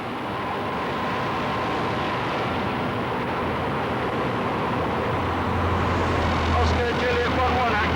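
A police car chases a speeding Ford Sierra Cosworth on the road, with a steady, loud engine and road roar throughout that swells slightly toward the end.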